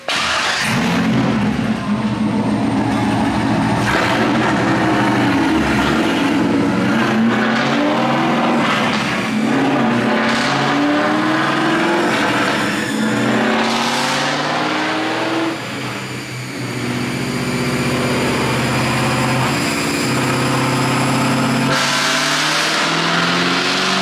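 Race car engine on a dyno, a loud, sustained roar climbing steadily through the revs for over twenty seconds, dipping briefly near the end before surging again, with no talk.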